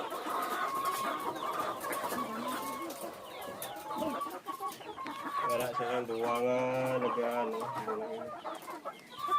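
Hens cluck and chatter continuously at a Philippine poultry farm with layer hens and gamecocks, a dense close flock with one bird's drawn-out, rising call standing out, while someone talks in the background.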